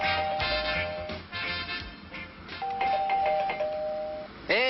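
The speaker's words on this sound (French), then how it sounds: "Hé, lâche un peu la sonnette." A doorbell rings repeatedly in a home, insistent chimes pressed again and again, fairly close and clear with no talking.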